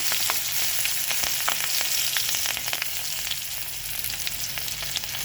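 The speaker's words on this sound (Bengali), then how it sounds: "ওই তেলের মধ্যেই পাঁচ ফোড়ন শুকনো লঙ্কা কাঁচা লঙ্কা দুটো মিশিয়ে দিচ্ছি" Panch phoron, dried red chilies and green chilies fry in the oil left from frying a fish head for a bottle gourd curry, giving a loud, continuous close-up sizzle with occasional pops and no talking.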